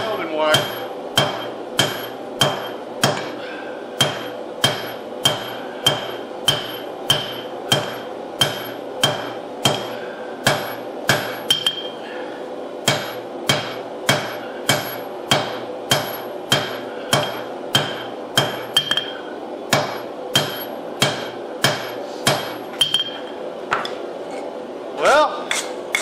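A hammer forges a 12-layer Damascus steel billet for a knife, drawing it out with a long, steady series of sharp, ringing metal strikes at an even rhythm, close and loud throughout.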